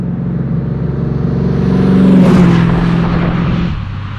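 A 1969 Maserati Ghibli 4.7 sports car engine accelerates with a deep, rising roar that swells loudly near the middle, then eases back into a steady rumble, with no voices present.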